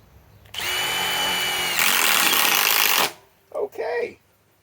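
A Milwaukee M18 Fuel drill runs at its highest speed in one loud, steady, high-pitched whine that climbs in pitch partway through, then cuts off, followed by a brief voice.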